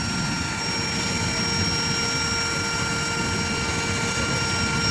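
Honey bee drones in a beehive make a dense, steady hum that fills the whole stretch at moderate loudness, with no pauses or talk.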